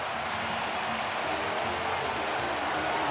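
Dense roar of a baseball stadium crowd at World Series Game 7 between the Dodgers and Blue Jays, a steady broad wash of cheering and applause rising slightly toward the end.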